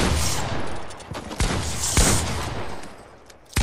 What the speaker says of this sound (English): I was just shooting with our pumps.